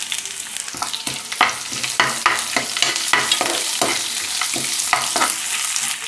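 Onion pieces and curry leaves, with ginger, fry in a pan for semiya upma, a steady close sizzle broken by repeated scrapes and clatters of a spoon stirring, no voices.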